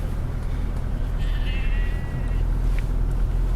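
Sheep and lambs bleat faintly near a car on a rural track, their brief cries partly buried under the loud, steady rumble of the vehicle's engine and road noise.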